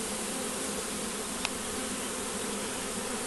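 Honeybees in a small hive make a dense, steady, close buzzing hum with a single faint tick in the middle and no voices.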